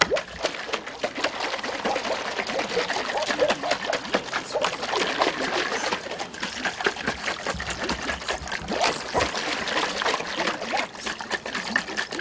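Thick, jelly-like charcoal poultice paste pours and dribbles steadily for several seconds, with wet splattering and soft plops throughout and no talking.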